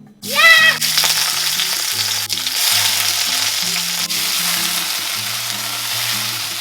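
Shrimp hit hot olive oil for pad thai, and a loud burst of frying erupts, then settles into a steady close sizzle with stirring scrapes throughout, no talk.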